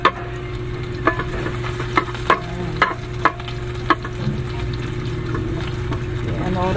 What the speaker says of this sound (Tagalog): yung mantika, and then ilagay na natin yung sibuyas